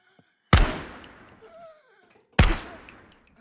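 Two sharp, loud pistol shots ring out about two seconds apart in the survival game Scum, each with a decaying echo tail and quieter clicks between.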